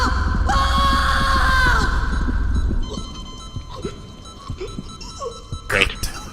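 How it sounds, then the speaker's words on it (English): Screaming in the video game STASIS: a strained, wavering cry rises loudly over the first couple of seconds, then gives way to quieter game ambience with scattered clicks and a sharp burst near the end. "I heard screaming."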